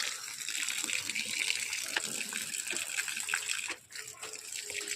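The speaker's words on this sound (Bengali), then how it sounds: "এই নল খোলা হয়ে গেছে, ছাদে একটু একটু জল দিয়ে দিই" Tap water gushes steadily from an opened rooftop faucet used for watering potted garden plants, a continuous broadband splashing rush held close, with a brief dip near the end.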